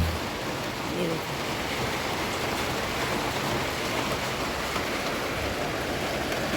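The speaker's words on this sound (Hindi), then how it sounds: "देखिए हो गई है बारिश सुबह सुबह के वक्त" Early morning rain falls in a broad, steady hiss that stays even from start to finish, with no distinct drops or voices standing out.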